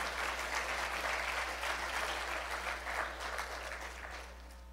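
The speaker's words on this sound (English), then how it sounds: "I think that deserves some applause" Sustained applause fills the room from an audience at a political event for Conservative leader Andrew Scheer, a dense, steady wash of clapping over a low hum that fades slightly toward the end.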